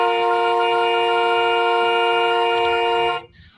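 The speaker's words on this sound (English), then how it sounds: "Why is he honking?" A car horn blares in one long, loud, unbroken blast for about three seconds, then cuts off abruptly into quiet background.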